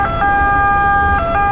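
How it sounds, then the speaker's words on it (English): Ambulance siren on a street, a steady high electronic tone with layered harmonics holding through the whole stretch, loud and close against a rumble of traffic noise, with no talking. "Ambulance."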